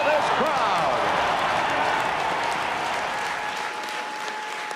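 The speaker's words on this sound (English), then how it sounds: "Listen to this crowd." A packed hockey arena crowd in St. Louis roars and claps continuously, loud and dense, with voices shouting through the din before the roar eases slightly toward the end.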